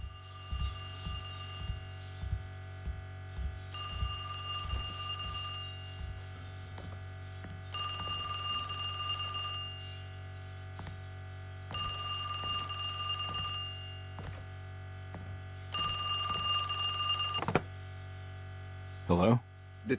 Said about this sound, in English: Can anybody answer the phone now, please?